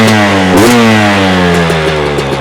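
A 2024 Beta 300 Race Edition two-stroke dirt bike engine revving at quarter throttle, loud and close, with a quick blip rising over a steady, buzzing idle and small throttle flutters afterward.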